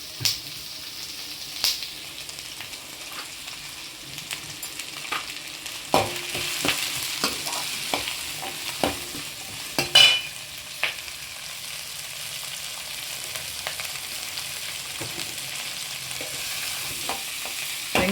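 Small onions sautéing with curry leaves and salt for Chettinad-style chicken sukka keep up a continuous near sizzle. Repeated stirring scrapes and knocks of a spoon against the pan come at irregular intervals, with no talk.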